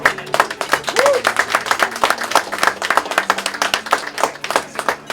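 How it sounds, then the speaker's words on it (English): A watch party crowd for the Jamaica bobsled team breaks into dense, steady applause, loud and close, with many hands clapping continuously throughout. "let's give a round of applause to our PR firm, Blue Hammond"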